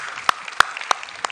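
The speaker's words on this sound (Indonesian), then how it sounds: "Berikan tepuk tangan yang meriah." Church congregation applauding during an Indonesian-language service, with several sharp, evenly spaced claps standing out above a steady wash of clapping.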